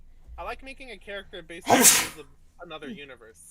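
A single loud, close sneeze bursts out between stretches of casual conversation, with people talking before and after it.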